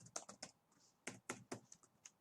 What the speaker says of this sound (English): type in my name, type in an email address that hopefully hasn't been used before.